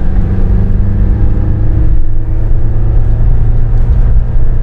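A Fiat- or Mercedes-chassis motorhome accelerates hard at full throttle around a handling course, its engine droning loud and steady with a deep, continuous rumble and no voices over it.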